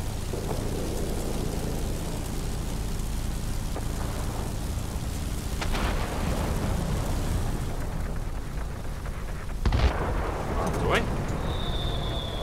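Anti-aircraft fire in the World of Warplanes game, a steady dense roar and crackle of flak bursts with a few sharper booms, with a voice talking over it.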